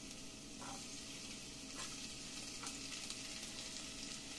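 Garlic sizzles and fries steadily in a hot pan, a constant hiss with a few faint stirring scrapes, close and alone with no talk.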